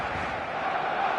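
A football stadium crowd in a video game roars on match day, a dense, sustained wall of cheering and chanting that holds steady and loud throughout, with no distinct voices standing out.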